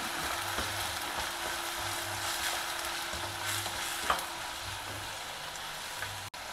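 Chopped onions and ripe tomato stir-frying in a pan for an Indian veg lunch, giving a steady close sizzle and crackle with soft stirring scrapes throughout, no talking.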